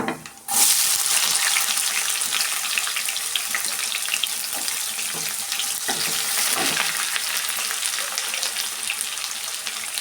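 Onions go into hot oil in a pan for tomato gojju, a loud steady sizzle of frying that starts abruptly and runs continuously, with faint clinks of stirring now and then.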